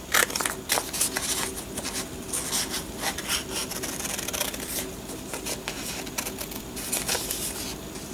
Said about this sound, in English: I'm just going to cut them in half.